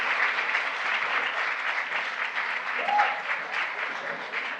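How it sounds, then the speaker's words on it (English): Crowd applause at an event with Jill Biden on stage, a steady, continuous wash of clapping heard at some distance. "And Jill claps like a toddler"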